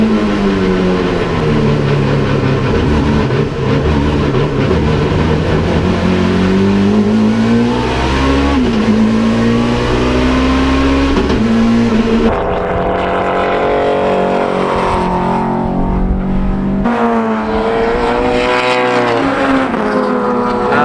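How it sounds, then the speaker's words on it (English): A 1998 Peugeot 406 touring race car engine roars loud and close, revving up and down through repeated rising and falling sweeps with gear changes, no voices over it. "The car is a 1998 Peugeot 406. It was one of two that Peugeot raced"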